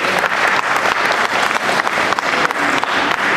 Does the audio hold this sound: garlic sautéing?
no